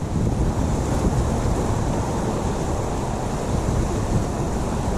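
The Truckee River rushes steadily beside Highway 80 in California, its broad continuous roar mixed with wind buffeting the microphone, loud and unbroken.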